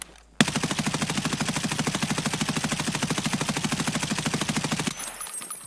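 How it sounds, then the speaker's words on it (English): An M4 rifle in the shooter BSG fires one long, unbroken full-auto burst from a standing position during a recoil test, a loud, close, steady rattle of rapid shots lasting about four and a half seconds before cutting off. "All right, M4 standing recoil."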